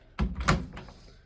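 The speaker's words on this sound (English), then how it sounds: "you can load your laundry by opening the drum door here, then close the door." The drum door of a front-loading washing machine in Japan swings shut with a single close, solid thud and a short rattle of the latch, alone with no talk.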